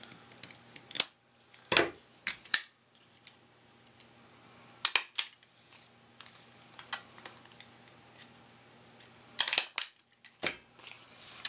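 Scissors snipping paper for mixed-media pocket letter cards, heard as sparse, sharp close-up cuts in short clusters separated by quiet pauses.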